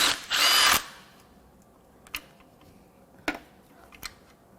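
A socket on an extension works a bolt loose on a VW EA888 1.8T TSI engine being torn down. One loud burst of rapid clicking comes first, then a few sharp, isolated metallic taps in a quiet space.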